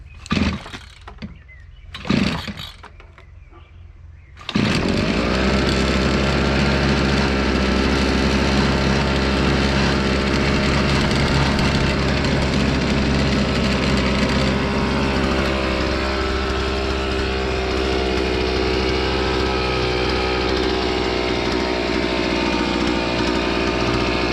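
A motorized brush cutter for garden use is started after a couple of short pulls and then runs at a steady, loud, droning engine note that continues close by for about twenty seconds.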